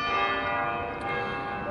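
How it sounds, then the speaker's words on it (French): Church bells ring on a sunny family Sunday, a dense, steady wash of overlapping bell tones with sustained resonant hum, loud and close, no voices. "ben les cloches de l'église sonnent."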